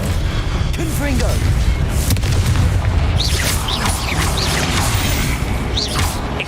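Blasting spell explosions from the fantasy wizard game Hogwarts Legacy, a dense run of loud booms and crashes under continuous combat noise and voices.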